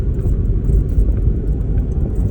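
A car rolling through the narrow streets of a small town in Japan, its steady low engine and road rumble filling the cabin continuously with no voices.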